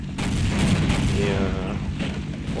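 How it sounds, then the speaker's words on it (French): A grenade explodes in the Half-Life video game, a loud broadband blast with a sustained rumbling roar that fills the whole moment without letting up. "oh non, je me suis jeté la grenade"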